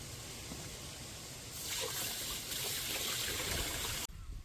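Water running over Delhi rice for soaking, a steady trickle that grows louder partway through and then cuts off abruptly near the end.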